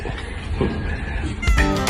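Pet cats before feeding, a close, loud meow rising near the end over a constant noisy background.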